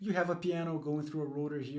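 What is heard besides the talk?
No distinct noise like a dog, phone or traffic.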